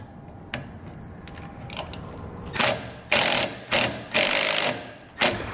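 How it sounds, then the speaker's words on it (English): Ratcheting clicks from a wrench tightening an 8mm nut on a Hopkins trailer connector mounting bracket, several short bursts growing louder toward the end, close up with no talk. "you use an 8mm on the nut and then just a Phillips to tighten it down"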